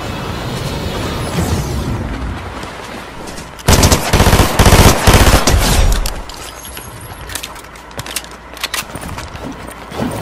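Rapid automatic gunfire in the Fortnite video game, loud bursts of shots with a dense, intense volley in the middle, then scattered single shots toward the end, no talking.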